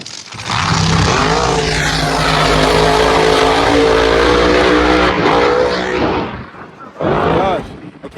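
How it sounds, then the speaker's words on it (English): Pro mod drag cars racing at Amarillo Drag Strip: a loud, roaring engine blast holds for several seconds, trails off, then a second short roar bursts in near the end. Close and powerful. "right now the pro mods are racing"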